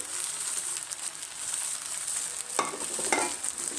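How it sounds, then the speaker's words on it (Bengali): Noodles being stir-fried in a pan as a pre-fried egg is tossed in, a continuous hiss of sizzling with scraping stirs, and two sharper clattering bursts toward the end. "এখন আমি এর মধ্যে ভেজে রাখা ডিমটাও দিয়ে দিব"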